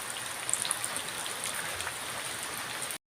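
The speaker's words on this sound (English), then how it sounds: "So, it's raining, it's quite nice." Steady rain falls on a rural spot by rice fields in the Philippines, an even close hiss with scattered drop patter and no talking, cutting off abruptly at the end.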